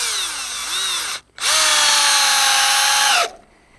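A power drill drives 4-inch Torx screws into wood on a cattle pen, two loud close whining runs with a short pause between them and the motor pitch shifting as each screw sinks.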